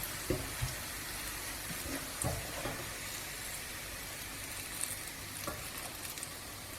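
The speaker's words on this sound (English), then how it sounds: "We're going to start by frying our thinly sliced onions till they're a deep golden brown." Steady sizzling of thinly sliced onions frying in oil, a constant crackling hiss with occasional stirring clinks and scrapes, close by and moderately quiet.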